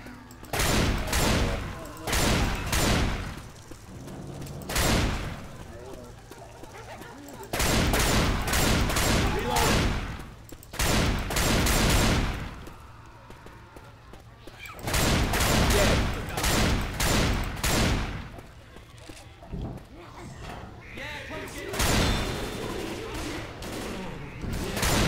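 Bursts of automatic gunfire in the video game Left 4 Dead 2 at a dark carnival, loud repeated volleys separated by short lulls across the whole stretch, with some talk mixed in.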